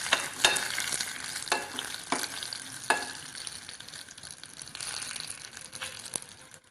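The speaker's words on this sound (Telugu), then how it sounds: "నూనె కాస్త వేడయ్యాక ఎండుమిరపకాయ ముక్కలు వేసి అటు ఇటు కలపాలి." Dried red chili pieces frying in hot oil while being stirred, a continuous close sizzle broken by occasional scraping strokes of a spoon against the pan.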